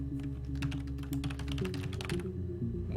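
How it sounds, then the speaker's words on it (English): Fake computer keyboard typing in the video game Her Story: a fast, steady run of crisp key taps, clear and close, over a low background hum, then trailing off near the end. "Oh my god, it even has like fake typing sounds."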